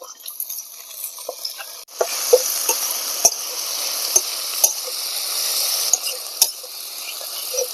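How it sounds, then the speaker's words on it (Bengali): Chopped onions sizzle steadily in hot oil in a pan as spring onion greens go in. A spoon scrapes and stirs with sharp clinks, and the sizzle swells louder partway through. "পেঁয়াজ ভাজা হয়ে গেছে, এবারে এই পেঁয়াজ কলি বা পেঁয়াজ গাছগুলো দিয়ে দেবো।"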